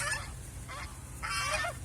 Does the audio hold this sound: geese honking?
yes